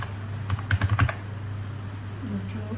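Typing on a computer keyboard during an HTML and CSS coding lesson: a short burst of about six quick key taps near the start, then quiet room hum.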